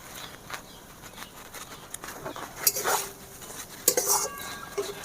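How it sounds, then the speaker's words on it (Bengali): Fried okra tipped into a pan of cooked-down spice masala for a vegetarian Bengali dish, then stirred, giving a few sharp metallic clinks and scrapes of utensil on pan over a low background hiss. "এবারে ভেজে রাখা ঢ্যাঁড়সগুলো দিয়ে দেবো"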